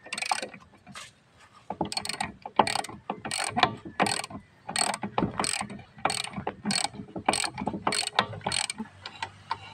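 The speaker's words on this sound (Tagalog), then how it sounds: "Ratchet lang muna yung gagamitin natin para medyo may katagalan pa naman to" A hand ratchet clicks in quick repeated bursts as tire bolts are tightened on a jacked-up wheel, with sharp, close metallic pawl rattles separated by brief pauses.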